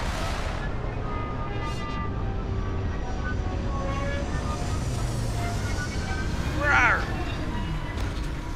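A spaceship touching down in Starfield at a plasma research facility, a heavy rumbling engine drone with rising and falling whines and a brief hiss burst near the end; someone talks over it.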